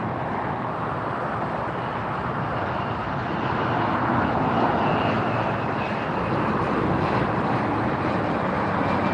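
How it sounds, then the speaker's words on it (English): A propeller airplane coming in to land at LAX just after a 747, a steady broad engine roar that swells slightly midway, continuous and fairly loud. "We don't see many propellers on this runway during the day."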